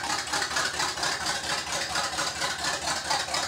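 Car engine with open headers, freshly converted to carburetion, runs steadily indoors in a shop with a broad, continuous rumble and raspy hiss at constant loudness and no talk.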